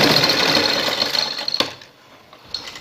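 A sewing machine stitches a neckline over a paper strip, a loud steady whir that runs along, then slows and stops with a sharp clunk, followed by a brief quiet pause and a small click.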